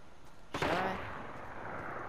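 A single heavy sniper rifle shot in Fortnite, one sharp crack with a short ringing tail, moderately loud against a quiet steady background.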